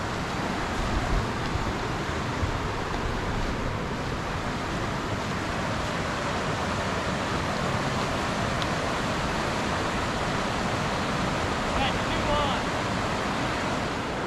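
Steady rushing water pouring over a creek spillway, a dense continuous roar that holds evenly throughout with no pauses, close and loud.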